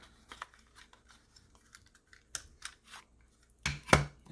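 Scissors snipping through cardboard and paper while making bookmarks and artist trading cards: a string of quiet, irregular cuts and rustles, ending in a louder, sharper snip near the end.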